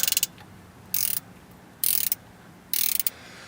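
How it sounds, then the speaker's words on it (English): A ratcheting wrench loosens the oil drain plug on a Ford F250 truck, giving four short bursts of rapid clicking, each about a third of a second long and evenly spaced, close up and crisp with quiet gaps. "These ratcheting wrenches are just freaking amazing."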